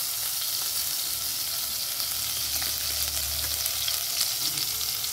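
Ginger, chilli and cumin paste sizzles steadily in a hot pan, a dense, even frying hiss that runs unbroken from start to finish with no talking over it.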